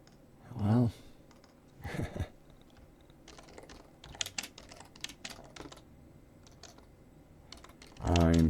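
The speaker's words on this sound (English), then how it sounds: "I'm typing into the chat." Computer keyboard typing during a live stream, bursts of light clicking keystrokes in the middle, with short stretches of a voice speaking at the start and end.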